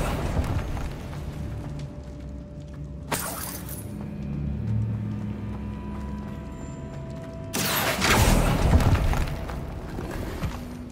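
A Confringo fire spell explodes in Hogwarts Legacy. Two heavy broadband blasts sound, a short one about three seconds in and a longer, louder rumbling one from eight seconds on, over a low mechanical game ambience.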